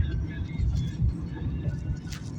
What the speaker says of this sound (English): I just waved to a fire truck